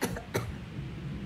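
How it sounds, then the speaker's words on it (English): A person gives a little dry cough, two short quiet bursts close together, followed by faint breathing in a quiet room. "it starts off with a little cough."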